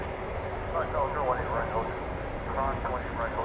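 A DHL-liveried Boeing 767-300ER jet produces a constant engine roar with a thin high turbine whine, while faint voices murmur underneath.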